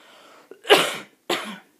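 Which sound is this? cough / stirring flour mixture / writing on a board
cough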